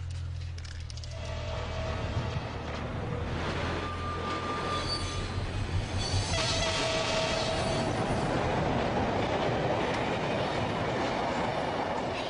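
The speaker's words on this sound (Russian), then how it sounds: "Поезд." A train rolls past close by for the whole stretch, a steady loud rumble with rail clatter and brief squealing wheel tones, no voices over it.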